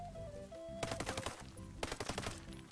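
Gunfire from the video game Ghost Recon Breakpoint comes in two rapid automatic bursts of close shots. Faint tonal game sounds play underneath.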